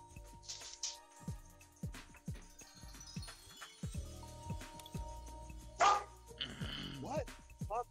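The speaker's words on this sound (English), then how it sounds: "Spinner, what are you barking about, bud?" A pet dog barks repeatedly in short, loud bursts indoors while someone talks over it during a PC card-game session, with occasional whimpering yips between the barks.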